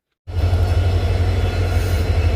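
A train pulls into platform 7 at Belagavi railway station, on the route from Guntakal Junction, with a loud, steady, deep rolling rumble that starts abruptly and continues with no voices.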